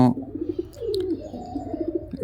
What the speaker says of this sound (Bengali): কবুতরের সঙ্গে জুড়া নেবার জন্য ও ডাক দিচ্ছে